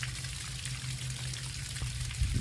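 Cooling water streaming from the tell-tale hose of a running Tohatsu 40 outboard engine, a steady close splashing trickle over the low engine hum, with no talk.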